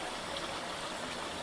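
Boiling hot water pours into a cooking pot in a continuous, even rushing stream, close by and steady throughout.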